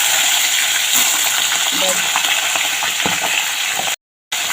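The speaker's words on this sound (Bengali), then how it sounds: "ভালো করে ভাজাটা হতে থাক" Loud, continuous crackling sizzle of large hilsa fish frying in oil, close up, with faint stirring scrapes, then a short moment of silence near the end.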